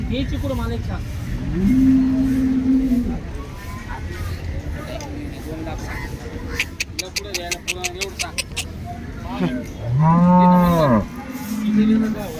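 An HF dairy cow moos at a busy cattle market, with two loud, long, close moos among steady voices talking and some clicking and clattering.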